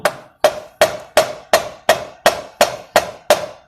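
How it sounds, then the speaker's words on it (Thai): Ten sharp, evenly spaced knocks ring out in a steady rhythm, each a hard wooden hammer-handle tap on a metal kick-start mechanism of a Honda Spacy-i scooter, with a short ringing decay, close and loud. "เดี๋ยวผมขออนุญาตใช้ด้ามค้อนกันละกันนะครับอ่ารอด้ามค้อนเคาะดู"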